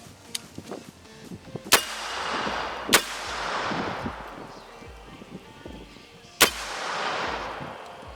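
A magazine-fed 12 gauge shotgun fires at an outdoor range: four sharp, loud blasts at irregular intervals, each followed by a rolling echo over wind-like background noise.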